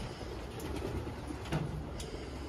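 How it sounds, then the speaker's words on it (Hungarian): Pigeons coo steadily inside a loft at a pigeon test station housing about 2,700 birds, a dense, continuous chorus of low cooing close by with no talk. "bemutatom nektek a galamboktokat, és nézzétek meg, hogy valójában milyenek"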